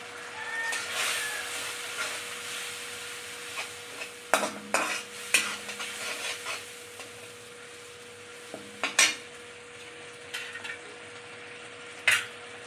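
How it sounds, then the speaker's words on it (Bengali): Spice paste frying gently in a pan over low heat for a jhal potol curry, a soft continuous sizzle with occasional louder stirring scrapes and clinks of utensils against the pan. "যে মশলাটা করেছি সেই মশলাটা এই যে দিয়ে দেবো। গ্যাসটা একদম স্লো করে নেবেন"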